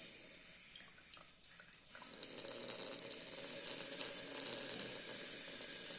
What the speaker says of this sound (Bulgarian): Трябва да излезе въздуха. От другите излизаше само вода, нямаше въздух. Тук малко вода и въздух.